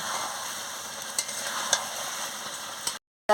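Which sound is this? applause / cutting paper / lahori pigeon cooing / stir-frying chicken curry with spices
stir-frying chicken curry with spices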